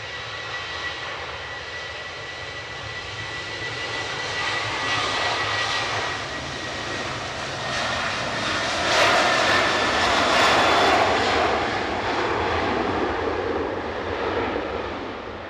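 Airliner engines roar steadily at Manchester Airport, a Tui jet among the traffic, the loud broadband rumble swelling toward the middle and staying strong to the end with no voices.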